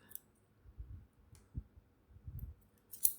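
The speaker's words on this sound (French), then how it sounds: "j'ai pris mes gros ciseaux de couture" Large sewing scissors cut through linen fabric with soft, quiet snips and clicks spaced out over a few seconds, close up, with no talking.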